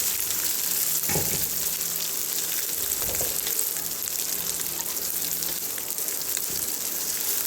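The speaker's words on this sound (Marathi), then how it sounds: "कांदा चांगला क्रिस्पी करायचा बरं का" Onion fries in oil for potato patties, a continuous close sizzle broken by occasional spoon scrapes as it is stirred toward crispness.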